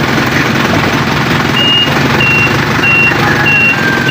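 Reversing beeps from an Isuzu Elf truck being pulled out, a steady series of evenly spaced high beeps over a constant rumbling engine and outdoor noise.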